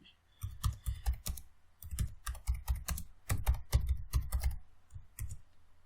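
A short message typed on a computer keyboard, close, crisp clicking keystrokes in quick uneven bursts with brief pauses, alone without voices.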